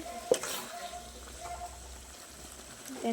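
Mutton being stirred in a frying pan with turmeric, a soft steady sizzle under scraping strokes, one sharper clack early on, close and fairly quiet.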